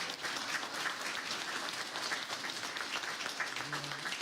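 Audience applause at a Republican candidates forum, steady dense clapping from a crowd filling the room for about four seconds, moderately loud throughout.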